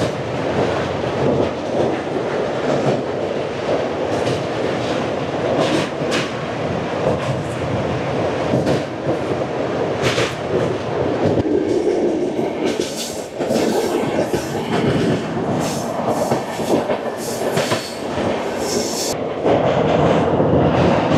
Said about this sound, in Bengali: ট্রেন নাম্বার 12704 সেকেন্দ্রাবাদ থেকে হাওড়া ফলাকনুমা এক্সপ্রেস